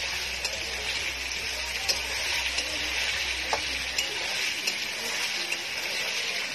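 Ghugni cooks in a pan over a village wood-fired clay stove, a steady broadband sizzle with soft crackles and a few light clicks running evenly throughout, close and moderately loud.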